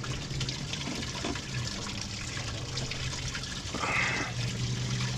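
Water from a garden hose runs steadily through a car heater core during a cooling system flush, a continuous close trickling and gushing flow that swells briefly near the end.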